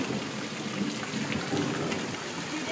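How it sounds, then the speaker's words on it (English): Hail and heavy precipitation pelting down during a Kansas storm, a dense continuous roar of impacts with low rumble, steady and fairly loud throughout. "It's still hailing."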